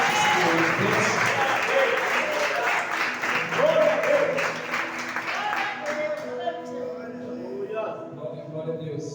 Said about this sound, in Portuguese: Vamos aplaudir o Senhor Jesus, Senhor de Deus.